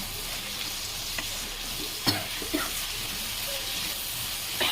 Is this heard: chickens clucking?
no